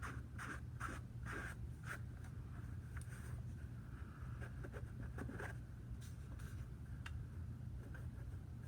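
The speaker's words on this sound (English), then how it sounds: "Right now I'm almost scrubbing the paint off of my shoe." A brush scrubs paint onto a shoe in repeated short, rough strokes, a close, quiet scratching rhythm over a low steady background hum.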